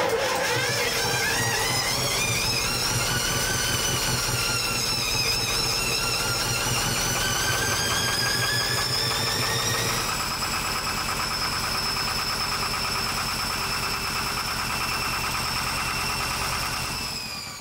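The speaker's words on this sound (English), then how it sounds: "some things on the engine were not looking or sounding great" Inboard diesel engine of a wrecked sailboat running steadily at idle with a rough, knocking mechanical rhythm and whining overtones that shift slightly in pitch; close and continuous, with no talk.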